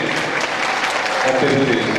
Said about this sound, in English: I think we can give a big applause for him